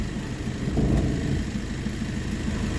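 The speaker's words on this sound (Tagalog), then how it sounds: "Pasensya na po kayo, medyo maingay po yung sasakyan dyan. Malakas ang ng makina" A car engine runs loudly and steadily close by, giving a constant low rumble with a brief slight swell, and no one talks over it.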